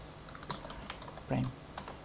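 Scattered keystrokes on a computer keyboard while assembly code is typed, a few quick clicks spread across two seconds over a faint steady room hum.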